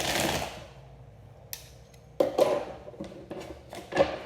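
Tarot cards riffle and slap together in quick bursts, a soft whoosh at first followed by several sharp shuffling snaps close by, with no talking.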